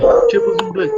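A dog howls at a fire alarm indoors, a sustained wavering tonal howl heard close and loud, with someone speaking over it.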